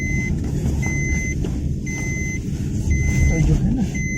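A car's seatbelt warning chimes in short, evenly spaced high beeps, about one per second, over engine rumble inside the cabin while people talk.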